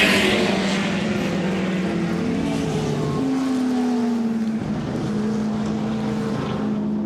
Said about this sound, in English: 2 3/4 minutes to go in this Scott Brown Trophy race